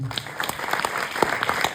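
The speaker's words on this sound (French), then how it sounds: "Merci pour ces applaudissements" Audience applause at an improv show: a dense, continuous patter of clapping hands from a room of people, fairly close and steady, with a few voices mixed in.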